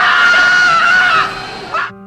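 A man screams at the touch of his arm, one long loud sustained cry that breaks off near the end, followed by a short strained trailing sound.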